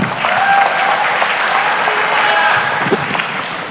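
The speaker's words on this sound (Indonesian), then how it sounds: "Bapak, Ibu-Ibu, tepuk tangan buat Pak Menkyu." Audience applause at the Kadin Indonesia 2025 national leadership meeting, a full, steady round of clapping from a large crowd in a hall, loud and sustained, with faint voices beneath.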